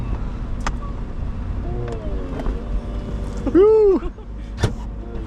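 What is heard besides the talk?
Aston Martin Vantage V8 convertible roof opening and tucking away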